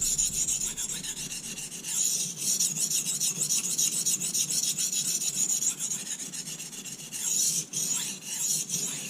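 Kitchen knife steadily rubbed across a sharpening stone after shaping has raised a burr: a continuous rasping scrape with back-and-forth strokes, close and loud, with no talking.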